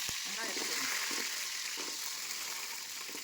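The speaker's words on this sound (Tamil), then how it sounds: "நல்லா செவக்காக வறுக்கணும்" Onions frying in hot oil with fenugreek and curry leaves, a steady close sizzle with faint stirring scrapes, running alone without talk.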